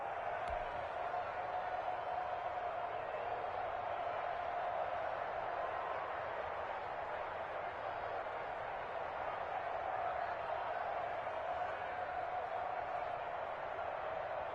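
Steady stadium crowd roar in a PS4 American football video game, a constant broad wash of cheering noise swelling slightly before a big third down, with commentary talk over it.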